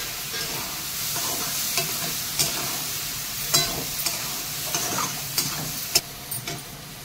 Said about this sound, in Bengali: একটুখানি জল দিতে হবে, নাহলে একটু শুকনো হবে। দিয়ে মশলাটা কষা দেবো।